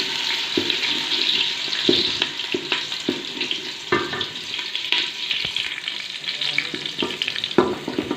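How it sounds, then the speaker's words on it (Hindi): Onions just added to hot oil in a pot for chicken biryani with chicken feet, a loud close sizzle broken by repeated stirring clacks and scrapes of a spoon, no speech. "अभी इसमें प्याज डालते हैं। ये देखें नाज़रीन, मैंने प्याज डाल दिए।"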